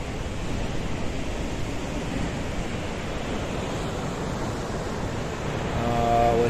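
A rough sea churns and boils against the rocky shore at Plage de Fautea, a loud continuous roar of surf with wind rushing across the microphone.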